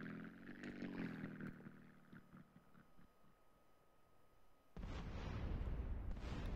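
An explosion in the video game Grand Theft Auto San Andreas bursts in suddenly after a quieter stretch, a loud broadband roar that lingers to the end over earlier engine-like droning.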